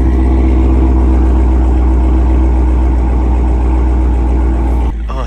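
Loud, steady car engine idling close by with a deep rumble, running continuously until a brief dip near the end.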